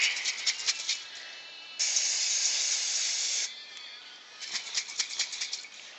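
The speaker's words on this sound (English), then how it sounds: "you shake the can up a little bit, and I spray all four corners" An aerosol can hisses in several short spritzes, then one long steady spray of nearly two seconds, followed by more quick bursts, close and fairly loud.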